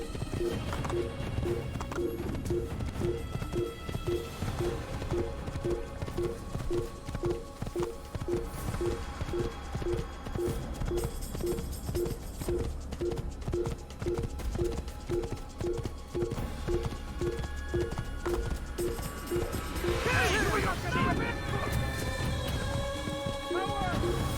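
Horse hooves clip-clopping in a steady, even rhythm in the video game Assassin's Creed, clear and continuous beneath constant background ambience, with a brief louder burst near the end.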